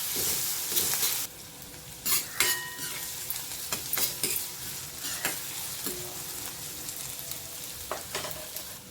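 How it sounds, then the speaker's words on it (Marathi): Onion with curry leaves and green chillies sautés in hot oil in a pan, a soft continuous sizzle broken by frequent clinking scrapes of a spoon stirring. "कांदा कांद्यावरच कढीपत्ता टाकायचा आहे हिरव्या मिरच्या टाकायच्या आणि कांदा थोडा परतून घ्यायचा आहे"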